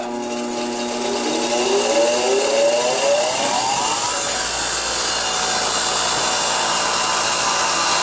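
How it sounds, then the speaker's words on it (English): Bench grinder grinding a non-ferrous metal part for a VW Beetle speedometer cable extension, a steady loud whirring drone with a rising, shifting whine as the metal is pressed to the wheel, continuous throughout with no talk. "I think I'll do the rest of this on the grinder."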